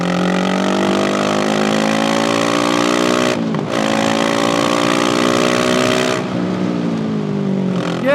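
A Honda-powered, street-legal Star Wars pod racer under 50 horsepower revs hard while driving, its loud engine whine climbing in pitch through two gear changes with brief dips between, sustained and close, no talk.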